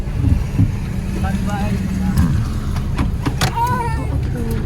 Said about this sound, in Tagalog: may pababa pa po raw na sasakyan